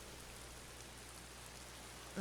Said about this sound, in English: before it started to rain